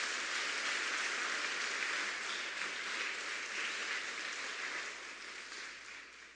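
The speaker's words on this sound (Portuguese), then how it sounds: "Aplauda a palavra de Deus." A church congregation breaks into sustained applause, a dense wash of clapping that sounds like rainfall and stays steady before slowly tapering off, fairly faint and distant.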